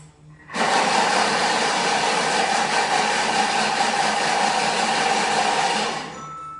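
A Thermomix runs at speed 6 mixing sweet dessert ingredients, starting abruptly into a loud, steady whirring roar that holds for about five seconds, then cuts off.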